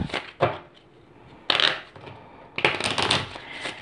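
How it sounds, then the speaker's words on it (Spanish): Tarot cards are shuffled by hand in a few short riffling bursts separated by pauses, close and fairly loud, with no voice. "vamos a barajar nuestras cartas"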